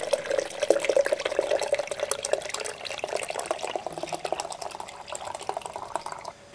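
Hot wort poured over grain bags to sparge a 10 gallon batch of IPA, a steady splashing, trickling pour of liquid that runs continuously and close, easing slightly toward the end.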